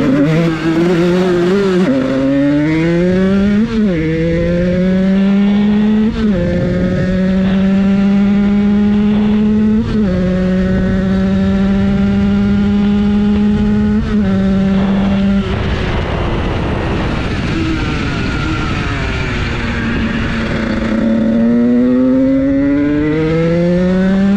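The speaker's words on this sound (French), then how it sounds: "ce qui est cool avec cette moto, c'est qu'elle fait, elle fait du bruit quand même" A small Beta 50cc dirt bike engine runs loudly and close by, rising through repeated revs and gear shifts, then dropping and climbing again, with no talking.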